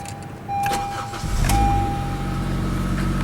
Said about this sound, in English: as you can hear, it has a very nice burble on startup